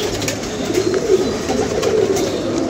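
Pigeons coo in soft, repeated low phrases, steady and fairly close, against a constant background hiss with no talking.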